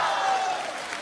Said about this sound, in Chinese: 咱给诸葛松鼓掌怎么样？